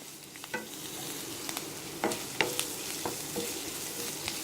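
Onions and tomatoes for a tomato kuzhambu sauté in a pan, giving a soft, low sizzle under scattered clicks and scrapes of a spoon stirring, close and fairly quiet throughout with no talking.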